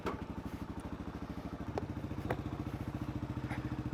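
A Kawasaki KLR 650 motorcycle's single-cylinder engine idles nearby with an even, low thumping pulse and a few faint clicks over it, alone without talk.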